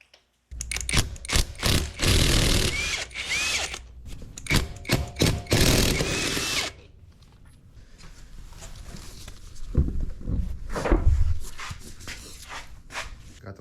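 Lug nuts being spun off the wheel of a 2015 GMC Sierra 5.3L with a power tool, a run of loud close bursts and mechanical rattling in the first half, followed by quieter clanks and handling noises.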